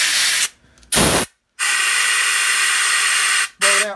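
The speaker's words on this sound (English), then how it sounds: "So I usually take my air compressor," Loud, close bursts of compressed air blown through bolt-action hunting rifle parts from an air compressor nozzle: a short blast, a second blast, then a long sustained hiss and a final burst.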